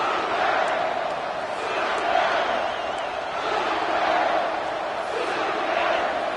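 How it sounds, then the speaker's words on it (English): In a Madden 21 football game, a stadium crowd roars in a sustained, swelling wall of cheering and chanting during a fourth-down defensive stand, steady and loud throughout. "This crowd busting the decibel meter and trying to will a 4th down stop."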